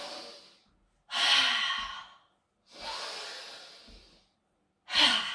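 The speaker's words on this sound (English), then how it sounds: "Really over exaggerate the breath a few more." Vigorous, exaggerated breaths during gentle yoga and qi gong practice, three long, loud, close whooshing exhalations separated by brief quiet gaps.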